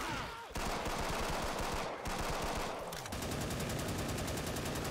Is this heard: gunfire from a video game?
yes